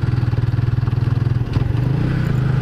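A WMOTO Extreme 150i scooter rides off-road, its engine close and loud with a steady, pulsing drone and a brief dip and rev partway through, with no talking.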